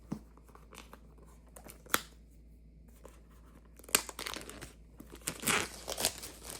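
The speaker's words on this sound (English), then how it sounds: "Gotta take off the plastic here." Plastic wrapping torn and peeled off a box at close range: scattered crinkles and sharp rips, then a denser burst of crumpling and tearing toward the end; no talking.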